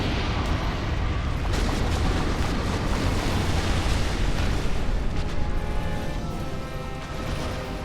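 A boss's explosion attack in Dark Souls, fighting True Artorias: a loud, sustained roaring blast with crashing rumble that fills the whole stretch, dense and close without a break.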